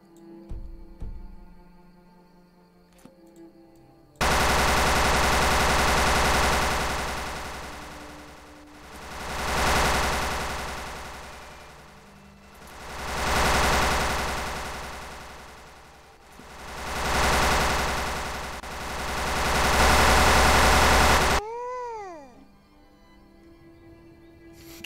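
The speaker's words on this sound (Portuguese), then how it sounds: "Só queria saber por que o som das armas é tão alto." Loud automatic gunfire from modded firearms in Skyrim, heard as long dense bursts that swell and fade in several waves, then break off abruptly, with no talk over it.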